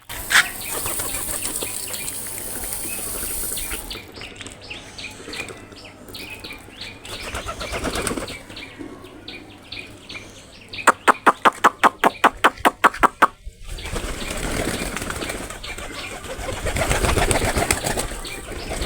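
Pigeons flap down onto a rooftop to be fed, bursts of wingbeats including a fast rhythmic flutter run, mixed with cooing and chirps, close and fairly loud.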